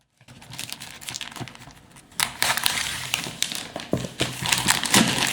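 Package being cut open with scissors, a crinkling, crushing run of snips and rustles that grows louder and busier partway through, with no talk.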